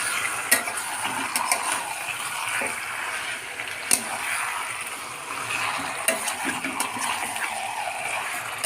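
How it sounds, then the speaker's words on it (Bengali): Marinated chicken stirred in a pan for chicken curry, a close hiss of frying under repeated scraping strokes and occasional sharp utensil clinks, no talking. "ম্যারিনেট করা মাংসগুলো দিয়ে আমরা ভালো করে নেড়ে নেব"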